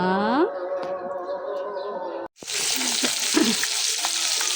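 A fish head fries in a pan with a steady, loud sizzle that cuts out briefly and then resumes. A short tonal chirp sounds at the start.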